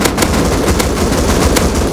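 Loud, dense gunfire in the video game Rust during a base raid, a continuous rattle of rapid shots close up with no pauses.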